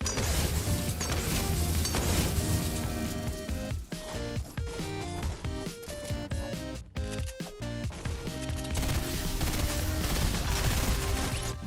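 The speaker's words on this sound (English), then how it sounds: "if you've got decoy grenades, it's time to use them to your advantage and confuse your enemies when they don't know what hit them" Decoy grenades in Fortnite spit out fake gunfire, a dense, continuous clatter of rapid shots and crashing impacts that stays loud and busy from start to finish, with brief gaps midway.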